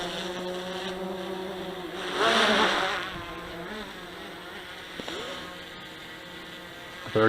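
A DJI Inspire drone, fitted with modified batteries, flies nearby with a steady whining buzz of rotors. The pitch and loudness surge for a second or so as it brakes, then settle back to an even hum.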